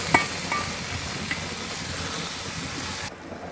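Pork pieces hit a hot pan of caramel with minced garlic and shallots, giving a steady close sizzle with light stirring scrapes that stops abruptly near the end.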